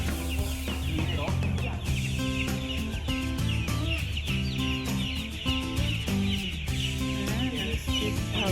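Chickens on a chicken farm cluck steadily in a busy, continuous chorus at moderate level, with scattered sharper calls throughout and no talking.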